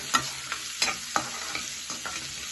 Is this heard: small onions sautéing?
yes